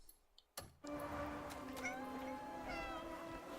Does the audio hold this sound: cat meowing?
yes